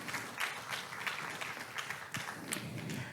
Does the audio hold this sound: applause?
yes